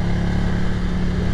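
A Ducati Cafe Racer motorcycle engine drones loud and close as it pulls along a mountain road, a dense steady roar.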